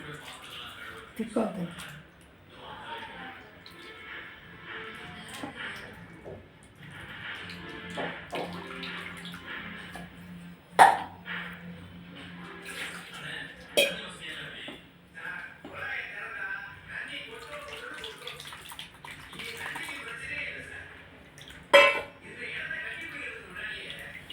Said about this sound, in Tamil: இதில் ஊற்றிட்டு அதுக்கப்புறம் இது ஃபுல்லாக நம்ம வந்து கையை வச்சு நல்லா கரைக்கணும்